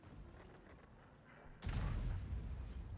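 A heavy tank cannon boom from the FV4005 Stage II in a video game bursts in halfway through, followed by a rumbling low tail over faint background noise.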